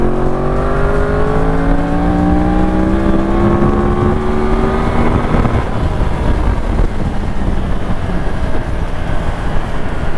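A Yamaha R1 with a crossplane-crank inline-four engine revs hard and loud, a smooth rising howl sweeping upward over the first half before settling into a steady rumbling drone, with no talk.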